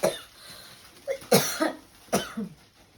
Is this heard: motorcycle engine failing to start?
no